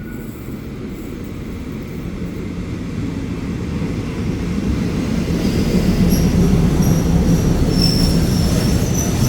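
Commuter train 355 passes close by, its steady rolling rumble growing louder as high-pitched wheel squeals rise in the second half, with no voices.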